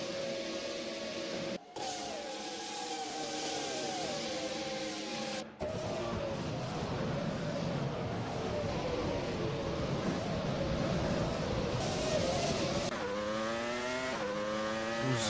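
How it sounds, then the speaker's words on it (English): Formula racing cars with high-screeching V10 engines at the Australian Grand Prix, a steady high-pitched engine wail broken by short gaps, with rising revs as one car accelerates near the end. "The high screeching V10s"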